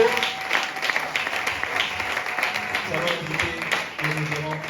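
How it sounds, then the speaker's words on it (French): A church congregation applauds in bursts of loud, scattered clapping while a preacher's voice carries over the crowd. "On acclame pour la parole."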